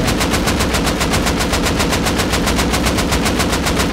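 Rapid automatic gunfire with explosive rounds in the video game Rust: a loud, close, evenly spaced stream of shots at roughly six per second, sustained throughout with no speech.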